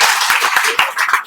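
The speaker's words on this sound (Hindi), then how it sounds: "चलिए एक बार ताली बजाइए सर को लिए।" Audience at a coaching class for GK/GS exam students in Sitamarhi clapping for their teacher, a short burst of dense hand claps with a few sharper individual claps standing out, close and fairly loud.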